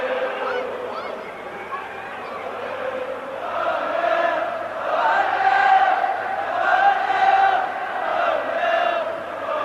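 Football stadium crowd at a 1983 Wales versus Brazil match, a broad sustained roar of cheering and chanting voices swelling in the middle, heard at a distance and alone.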